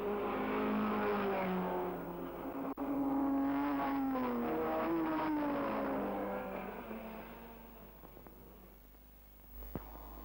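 Vintage sports cars, including a JBW Maserati, race at Donington Park. Their engines hold a loud, steady, rising drone that swells and fades as the cars pass, then a brief thump and quieter tail near the end.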